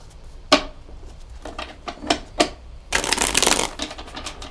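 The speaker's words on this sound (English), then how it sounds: "Okay, that's a very short shuffle." Tarot cards shuffled by hand at close range: a few short, separate riffles, then a longer dense riffling burst near the end, with no talking.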